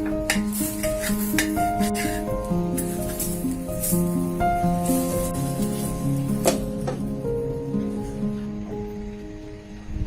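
Banana-leaf-wrapped pitha frying in a pan as the pieces are flipped: a soft sizzle with scraping and a few sharp clicks, under tonal background music.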